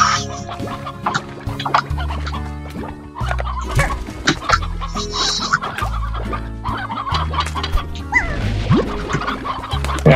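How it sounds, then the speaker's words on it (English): Chickens clucking in the Slime Rancher video game, loud repeated clucks and squawks in irregular bursts over layered game sounds and thumps. "you're not eating my chickens"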